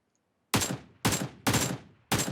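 Four loud, close bursts of automatic gunfire in the mobile battle-royale game PUBG Mobile, each a rapid volley of shots separated by short gaps, with no talk.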